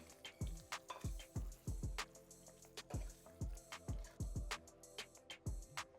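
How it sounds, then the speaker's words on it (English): Thick, creamy lemon pepper alfredo sauce simmers in a pan, popping and blipping in irregular bursts of soft plops and bubbles, quiet and close, with no talk over it. "So go ahead and let this simmer"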